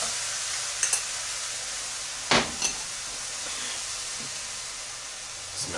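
Butter powder sizzles in a heated frying pan, a soft steady hiss with a few sharp crackles and pops scattered through.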